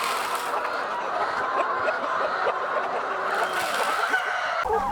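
Chickens in an automated egg-laying house keep up a dense, continuous chorus of clucking and squawking, many birds at once, moderately loud and close with no pauses.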